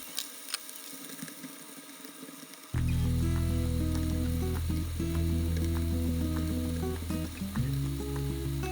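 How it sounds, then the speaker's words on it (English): After a quiet start, a loud, steady sizzle of ribs frying in hot oil abruptly begins and continues, with faint clinks in the background. "frying helps the ribs to retain moisture"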